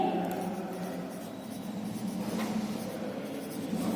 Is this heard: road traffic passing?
no